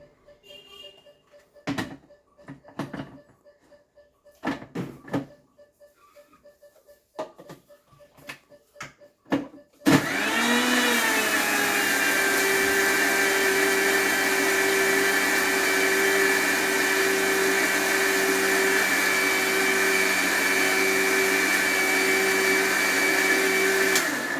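A mixer grinder blending raw giant taro (mankochu) starts up after some scattered knocks and clicks, then holds a loud, steady whirring motor hum with a bright whine to the end.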